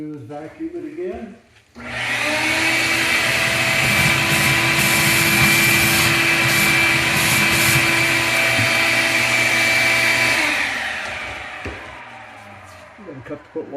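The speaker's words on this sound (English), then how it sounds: "what we do is vacuum it again." A vacuum cleaner runs steadily for about nine seconds at close range, a loud whining drone with a broad roar underneath, starting abruptly and winding down near the end, used while installing an under-counter kegerator.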